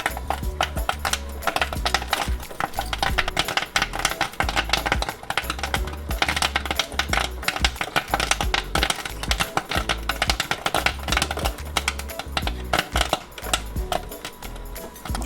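Dense, rapid popping of popcorn kernels in a heated kettle with a stirring motor, the sharp pops crowding together into a loud, continuous crackle over a low mechanical hum throughout.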